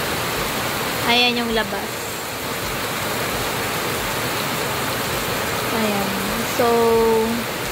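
Heavy rain pours down steadily outside a house in the province, where the area is flooding. The hiss is loud and constant, and a person talks briefly over it.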